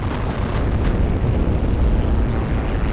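Tank explosion in Heroes and Generals: a dense, loud, rumbling blast that roars on steadily for a few seconds with no voices over it.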